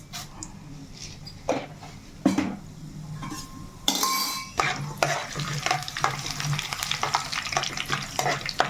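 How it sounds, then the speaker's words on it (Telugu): Cumin seeds and other spices frying in a pan for a mint and coriander chutney, with a steady sizzle, a spoon scraping and stirring, and occasional clinks of metal against the pan, close and fairly loud throughout. "ఇవి మనకి ఇలా వేగుతుండగానే ఎండుమిర్చి వేసేసుకుందాం"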